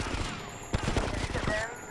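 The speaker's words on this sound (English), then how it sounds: "Who's shooting at me?" Gunfire in Grand Theft Auto Vice City: a burst of sharp shots opens the stretch, followed by rapid repeated firing over a busy, continuous game soundscape.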